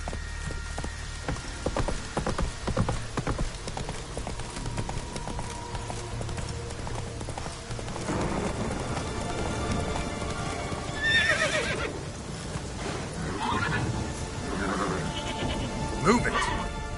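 Roach the horse in The Witcher 3 clip-clops along with rhythmic hoofbeats and whinnies, mixed with game sounds such as bleating sheep, shouted voices and a rain-like wash.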